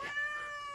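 A single short, tonal cat meow, close and clear, lasting under a second.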